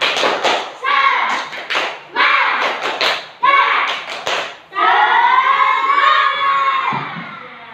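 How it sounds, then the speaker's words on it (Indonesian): A group of children in a classroom claps in rhythmic bursts while shouting along in unison, ending in a long loud cheer. "Tepuk semangat."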